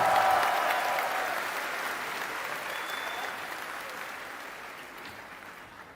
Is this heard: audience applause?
yes